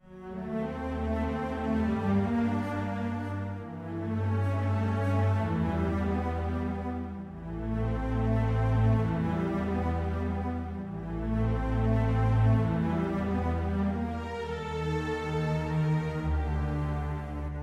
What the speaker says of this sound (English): I think violins double the melody as well, and then the cello goes into octaves with the bass